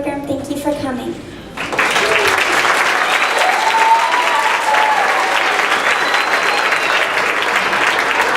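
After a school history program, an audience breaks into loud, sustained applause that swells abruptly after a short spoken line and continues evenly.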